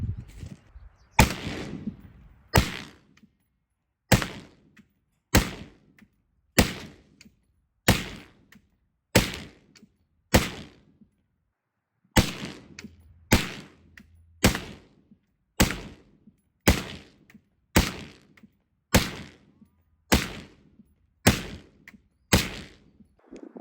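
.223 rifle fired repeatedly at a piece of wood, about eighteen sharp loud cracks at a steady pace roughly a second and a half apart, each with a short decaying tail, no talking.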